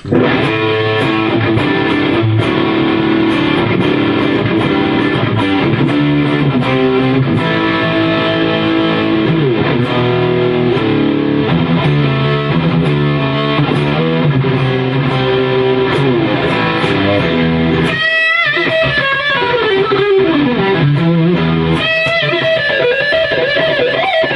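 A heavily distorted electric guitar, a modified Squier Stratocaster through a cheap distortion pedal at full gain, plays chords and riffs, loud and sustained, with a short break before bending, wailing notes.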